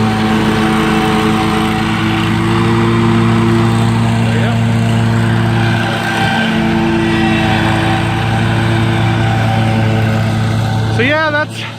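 A Kubota Z725 zero-turn mower with a 60-inch deck and 25 hp Kohler engine drones loud and close at a steady pitch throughout, someone talking faintly beneath the engine noise.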